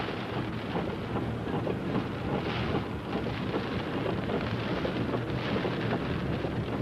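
Strong gusty wind just after Hurricane Georges passed: a loud, steady roar of broadband wind noise and buffeting fills the whole stretch, with mild swells in strength and no voices.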